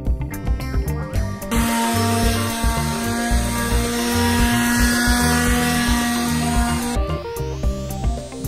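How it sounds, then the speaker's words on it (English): A power sander whines steadily against pallet wood pieces, close and loud, with a rougher grinding stretch before and after the sustained run. "After sanding the pieces down,"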